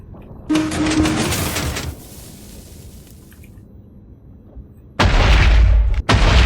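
A TNT explosion from a budget tank build in Minecraft 1.18–1.19: a loud blast rumbles and fades over a low hiss, then a second, heavier boom bursts in and cuts off abruptly.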